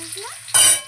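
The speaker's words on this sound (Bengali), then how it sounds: "তেলে আমি দেব লঙ্কা কুচানো, কাঁচা লঙ্কা, আদা কুচানো, রসুন কুচানো, পেঁয়াজ কুচানো" Chopped green chilies, ginger, garlic and onion hit hot oil in a kadai with a sudden, loud burst of sizzling that follows a short stretch of quiet voice and fades back after a moment.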